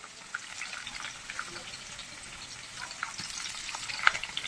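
Chopped onions and curry leaves fry in a pan, giving a soft, steady crackling sizzle with a few sharp pops scattered through and one brighter crackle near the end; no voices.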